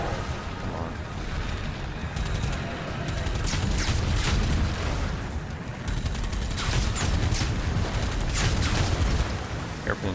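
Enemies fire steady, heavy gunfire in the video game Doom The Dark Ages, a dense, loud barrage of shots and blasts that runs without a break and layers over other rumbling game noise.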